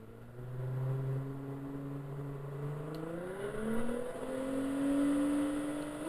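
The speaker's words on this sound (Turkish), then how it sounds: "Yavaş yavaş gaz veriyorum şu an." A car engine in a video game revs under gradual throttle from an MSI Force GC20 gamepad, a steady droning tone that rises and shifts pitch in long smooth sweeps, with no talking.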